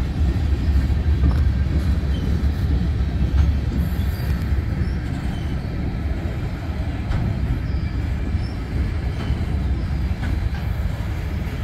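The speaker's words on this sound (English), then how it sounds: "Train's finally coming up." CN freight train L570 passing trackside at MP 49 Halton, Ontario: a steady, loud low rumble of rolling freight cars with faint rail clatter, sustained throughout with no talking.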